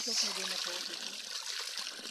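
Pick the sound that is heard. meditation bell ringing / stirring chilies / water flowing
water flowing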